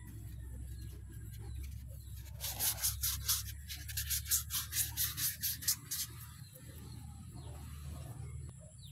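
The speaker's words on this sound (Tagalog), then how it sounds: "Lihain pa natin, baka kulang pa." Sandpaper rubs a rusty brake part in a run of rhythmic scraping strokes, close and fairly loud, over a steady low background hum.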